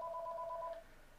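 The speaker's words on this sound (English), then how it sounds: "Sorry about that. That's my phone." A phone sounds off close by with steady two-tone electronic beeping that holds for most of a second and then cuts out, leaving only quiet room tone.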